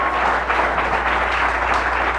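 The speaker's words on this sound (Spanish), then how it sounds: "¿Alguien le da un aplauso a Jesús en esta mañana?" A church congregation applauding during a Sunday morning sermon, a dense, steady wash of many hands clapping at fairly loud level over a low hum, with no talk.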